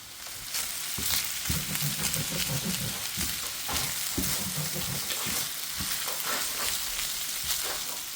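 Jasmine rice fries in sesame oil with a steady, close sizzle, broken by repeated scraping and stirring knocks in the pan; no voices.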